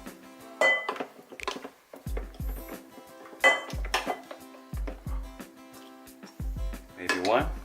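Freshly steamed rice is scooped from the pot into a bowl for a Korean bibimbap dinner, with several light clinks and scrapes of utensil on cookware in a quiet kitchen, between bits of talk.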